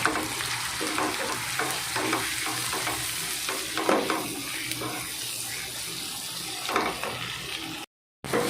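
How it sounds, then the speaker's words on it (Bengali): Chopped tomato frying with cumin, chilli and turmeric powder, giving a constant close sizzle overlaid by repeated scraping stirs of a spatula, with a brief gap near the end. "টমেটো কুচিটাও দিয়ে দিলাম, দিয়ে ভালো করে ভেজে নিচ্ছি"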